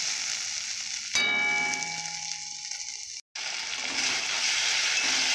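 Poppy seeds fry in a pan with a steady sizzle. A brief tonal ring sounds, then a short gap, and a little water goes in, bringing a louder, broader hiss.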